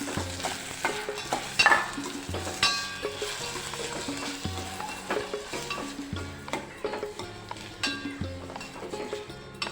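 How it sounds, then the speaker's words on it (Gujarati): Rice roasts in ghee in a pan, a soft continuous sizzle broken by repeated scraping and stirring of a spoon against the metal pan, with occasional light clinks. "આવી રીતના ચોખાને ઘીમાં શેકી લેવાના છે"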